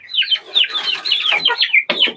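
Young chicks cluck and peep in a busy, overlapping chorus close by while being fed homemade feed, steady chirping with brief pauses and no talking.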